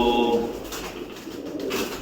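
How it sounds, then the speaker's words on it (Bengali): Pigeons coo inside a large pigeon house, a soft throaty call standing out near the start before fading into a quieter, murmuring background of birds and room noise. "এত বড় ঘর আপনি দেখছেন চারিদিকে পায়রা রেখেছি"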